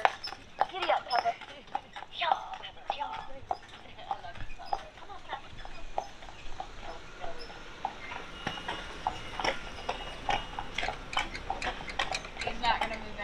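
Horse hooves clip-clop steadily on a street as a horse pulls a buggy carriage on a ride in Savannah, Georgia, a continuous rhythmic clatter close by with people talking over it.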